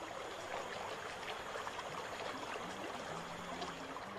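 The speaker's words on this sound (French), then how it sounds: "Rapides et cataractes sont fréquents en Guyane." Steady rushing water of river rapids in French Guiana's Amazon rainforest churns and splashes continuously, a dense broadband roar like a fast stream, with no voices.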